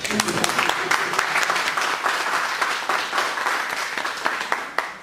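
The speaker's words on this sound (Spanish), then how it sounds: "Les pedimos un aplauso para nuestro invitado." A crowd applauds steadily for several seconds, a dense wash of many hands clapping at once, fairly close and sustained throughout.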